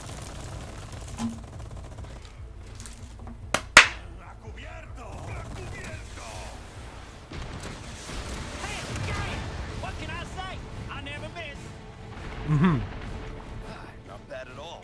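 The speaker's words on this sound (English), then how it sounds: "Let's just listen to the explosions in the background." Explosions and gunfire in the background of Resident Evil 4, heard as scattered distant bangs and a couple of sharp louder shots, with a person talking over much of it.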